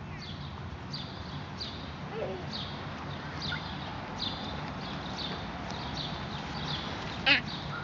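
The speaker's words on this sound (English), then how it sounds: "Alan, see if the geese will come and let you give them some corn" Geese honk repeatedly at a distance at a campsite, a series of short nasal calls over steady outdoor background noise, with one louder call near the end.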